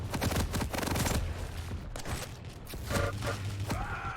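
Heavy machine gun in a Quake match fires a loud, sustained stream of rapid shots with dense repeated bursts, close and dominant, easing briefly midway before another burst near the end.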